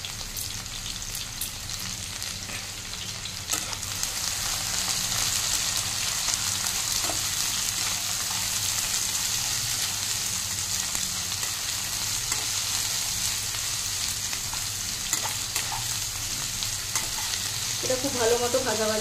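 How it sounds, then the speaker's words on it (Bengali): Onion, potato and pointed gourd fry in a pan with a steady, close sizzle, and stirring and scraping rise over it now and then throughout. "এটা খুব ভালো মতো ভাজা ভাজা করে নিতে হবে।"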